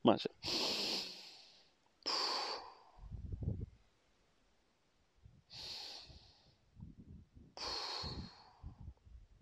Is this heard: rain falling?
no